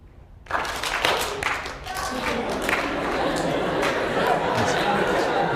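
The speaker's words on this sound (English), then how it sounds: "When you see it, clap." An audience breaks into a burst of applause, many hands clapping at once, mixed with chatter and voices that continue throughout.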